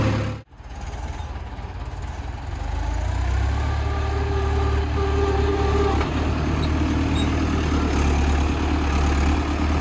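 A Mahindra 575 tractor with a harrow runs at a farm field being prepared for sugarcane sowing, its engine a steady low idle that rises after a brief knock near the start and holds constant.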